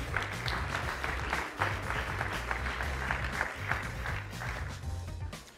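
Audience applause greets judges walking out at a startup pitch competition, dense steady clapping lasting throughout over a low droning musical bed, with no talk.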